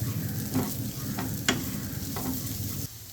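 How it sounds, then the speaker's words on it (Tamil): Spice powders, Kashmiri chili and garam masala, sizzle in a pan for egg tawa masala while a spoon stirs with a few scraping strokes over a steady frying hiss, close by. "நல்லா வதக்குங்க."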